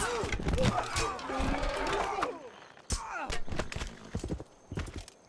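Clattering hoofbeats with a horse whinny and a few heavy thumps from a horseman unit in the video game Civilization V, busy and fairly loud, then sharper scattered hits.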